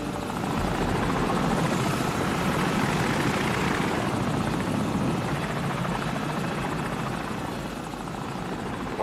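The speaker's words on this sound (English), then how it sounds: "Enemy helicopter! Get down!" A helicopter's rotor thumps steadily and loudly throughout, a dense continuous chop that slowly fades a little as it passes, in the game Call of Duty 4: Modern Warfare.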